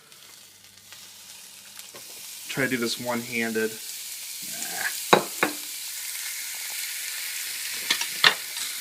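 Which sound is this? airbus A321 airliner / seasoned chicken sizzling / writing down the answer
seasoned chicken sizzling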